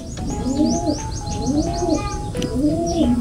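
Pigeons coo close by in a repeating, rolling pattern, three phrases in a row, with faint chirps from other birds in the background.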